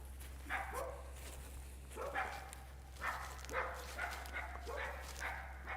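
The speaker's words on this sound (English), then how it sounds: "The dogs are going crazy." Several dogs bark in repeated short bursts, moderately distant and fairly faint, over a steady low hum.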